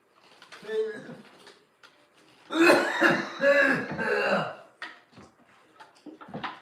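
Harsh coughing fits up close, a short one followed by a longer run of raspy coughs, then breathy throat sounds.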